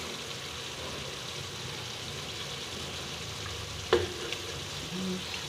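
Bitter gourd and two eggs fry in a small pan, giving a soft, even sizzle throughout, with one sharp utensil clink near the end.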